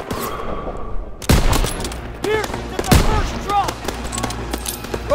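Gunfire in Call of Duty WW2 combat: loud bursts of rapid shots and sharp cracks layered over one another, with ricochet-like whines and a brief deep thump near the start.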